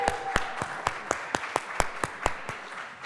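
Sparse applause for the musician: roughly a dozen distinct, sharp claps at a steady pace, fairly quiet, with a faint murmur underneath.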